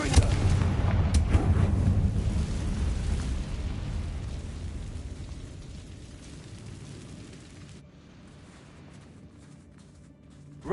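A fiery Confringo spell blast in the Hogwarts Legacy video game: a loud booming explosion up front whose rumble rolls on and slowly fades over several seconds, then a sharp sound right at the end.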